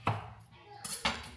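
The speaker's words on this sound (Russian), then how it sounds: "После этого я нарезаю бананы" A knife chopping frozen bananas on a board, with two or three dull, close thuds spaced under a second apart.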